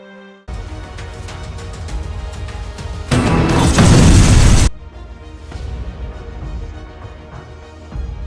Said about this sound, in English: The two giant Boeing 747s collided, with a loud bang.